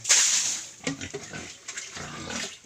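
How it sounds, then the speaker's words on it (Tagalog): A piglet squeals loudly while being castrated on a provincial farm, a sharp shrill burst at the start and then broken, rougher squeals and scuffling close by. "ito na, magkakapo na kami ng biik"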